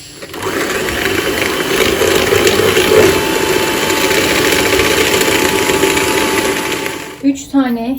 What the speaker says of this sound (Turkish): yumurtayla 10 yemek kaşığı şekeri çırptım